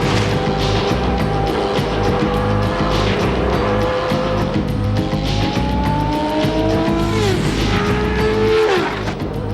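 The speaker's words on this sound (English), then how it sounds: "a severe and unforgiving test of the defining property of a Formula One car: the ability to corner at almost unbelievable speed" Formula One race cars cornering at very high speed, engines screaming with rising and falling pitch as they sweep through, tyres squealing, loud and continuous.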